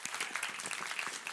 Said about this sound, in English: Applause for Yeva